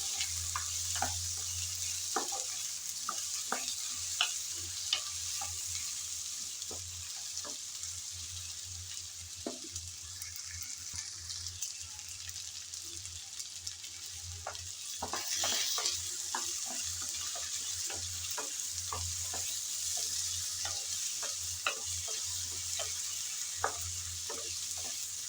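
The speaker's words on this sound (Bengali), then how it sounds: "আমড়াগুলো দেওয়ার পর নেড়ে চেড়ে ভালোভাবে কষিয়ে নিচ্ছি।" Hog plums are stirred and sautéed in hot oil for a chutney: a continuous sizzle runs underneath while frequent sharp spatula clicks and scrapes come close and fairly regularly.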